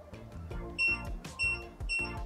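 A Coyooco coffee scale gives loud, shrill beeps, three short bursts in a steady rhythm, close by over a low background.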